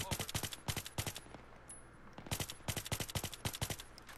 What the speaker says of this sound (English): I've spotted Tommy, shooting him.